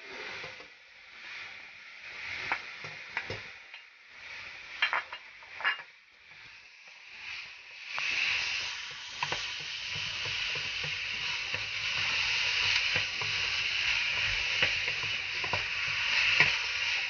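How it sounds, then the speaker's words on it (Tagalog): Meat for siopao filling sautéing in a pan, first quieter with scattered stirring scrapes, then a loud steady sizzle with utensil clatter, close and continuous. "Ginisa natin yung karne."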